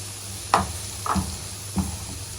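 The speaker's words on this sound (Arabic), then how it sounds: "وهشوحها لحد ما تاخد لون بني خفيف، مش ان هي تتحرق" Chopped onions sauté in a pan toward light brown with a soft steady sizzle, broken by three scraping stir strokes spaced about half a second apart, close and with no talking.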